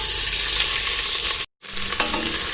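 Steady crackling sizzle of chopped onion frying in oil in a pan, loud and close, with a brief cut in the middle before the frying resumes with some stirring.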